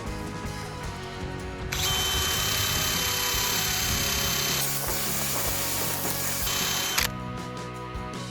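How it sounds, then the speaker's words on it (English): A power tool spins a wire wheel brush against a rusty steel propane tank, a loud continuous grinding whir that holds for several seconds, shifts pitch briefly mid-run, then stops abruptly. "we're going to switch over to a wire reel instead of a sanding disc"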